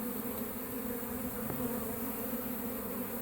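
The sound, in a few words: honeybees buzzing at a hive in a cinder block wall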